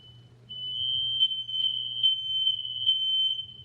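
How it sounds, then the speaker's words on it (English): A household smoke detector sounds off indoors with a steady high-pitched alarm tone, pulsing slightly in repeated beats over a low background hum, loud and continuous after a brief quiet start. "That's the smoke detector."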